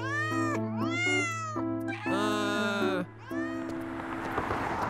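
A cartoon cat in a Roblox animation gives a string of five or six loud, drawn-out meows in quick succession, close and clear, before fading into rustling noise.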